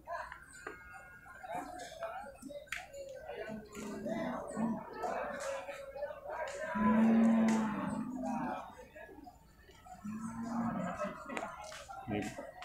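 A male water buffalo at the Purwakarta livestock market gives a couple of drawn-out, moderately loud lowing calls amid the chatter of people talking nearby.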